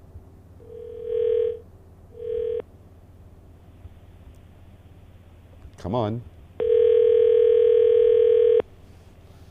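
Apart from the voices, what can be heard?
telephone ringing on an outgoing call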